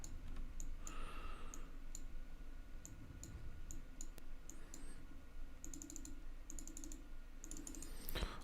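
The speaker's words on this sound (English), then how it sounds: "Lots of fucking clicking" Computer keyboard typing and mouse clicking at a Linux desk, with irregular bursts of close, crisp clicks and key taps spread through the clip over a quiet room hum and no speech.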